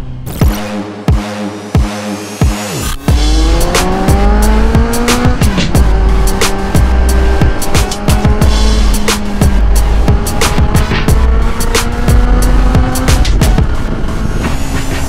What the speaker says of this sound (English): Kaya testingin nga natin dito tong muffler natin. Naka DB Killer eh.